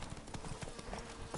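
Roach, the horse in the Witcher 3 video game, trots with a quick run of soft clip-clop hoofbeats under a constant ambient wash.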